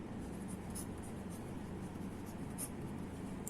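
Pen or chalk scratches steadily across a board or paper during a maths lesson, a faint continuous scraping with no talk over it.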